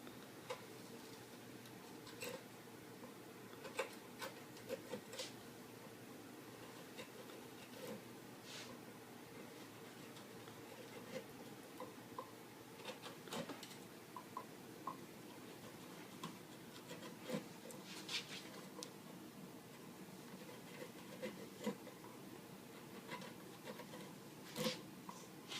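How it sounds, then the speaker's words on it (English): A forged steel gouge carves out the bowl of a wooden spoon, making quiet scraping and rasping strokes with scattered sharp ticks as the blade bites into the wood, close up and steady, without talk. "what I'm going to do is gouge the wood out in the bow"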